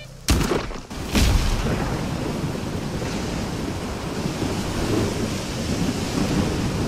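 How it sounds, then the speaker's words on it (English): A thunderstorm with strong wind in the Stalker 2 video game, with a loud thunder crack near the start followed by a continuous roaring wash of wind and rain that stays dense and loud throughout. "this storm is really loud! It's windy too!"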